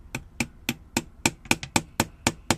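Small tool taps strike a part on an STG 44 gearbox during disassembly, about ten sharp, evenly spaced metallic knocks in quick succession, close and clear.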